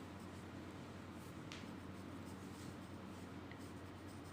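Writing by hand in a class workbook, with faint, soft pen strokes scratching against paper over a steady low background hum, close by and without talk.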